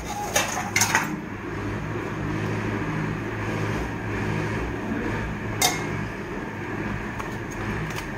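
A metal lid clatters onto a cooking pan over a gas flame, a few sharp clinks early on, then a steady low hiss and hum of the covered pan with one more brief knock.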